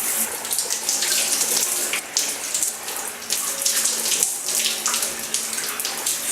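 A bathroom shower runs steadily, its broad hiss of spraying water continuous and fairly loud throughout, with small dips and spatters where the stream is briefly interrupted.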